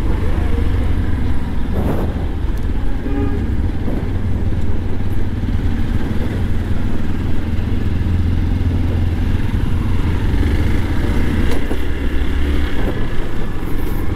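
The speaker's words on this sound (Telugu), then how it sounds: "ఈ గల్లీలో కూడా ట్రాఫిక్ ఉంది కదా." Engine noise from a motorcycle riding through a narrow, busy lane, with other vehicles close by; a steady, loud mechanical drone with low rumble runs throughout, with occasional clatter and no talking.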